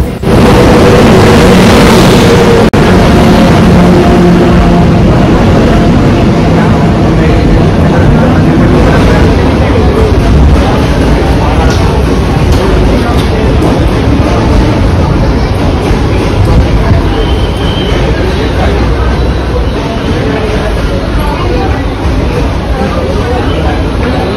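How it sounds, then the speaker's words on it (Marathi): The Bandra Vapi Express, train number 09159, pulls into platform 8 at Andheri station with a loud, continuous rumble and clatter throughout, a crowd of voices underneath. "इथे अंधेरी स्टेशनला 8 नंबर प्लॅटफॉर्मला ट्रेन लागतीये"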